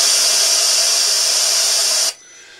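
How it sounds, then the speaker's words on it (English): A white noise generator emits a steady, loud hiss, bright and even, that cuts off abruptly after about two seconds, leaving a faint low residual noise. "Today I'm going to show you our white noise generator."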